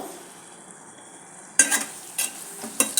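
Tempering for bagara fenugreek-leaf dal: quiet low hiss at first, then three sudden bursts of loud crackling sizzle as ingredients hit hot oil, each fading quickly.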